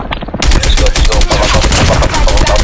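Loud, rapid bursts of gunfire ring out in a Call of Duty match, with repeated sharp shots close up and densely packed, and a voice briefly in the mix.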